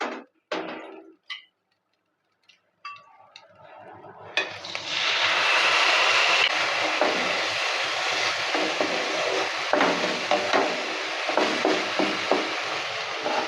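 Spices sizzle and fry in a pan for a pointed gourd (potol) curry, a steady loud hiss rising after a few clinks and taps, continuing with crackling through the rest.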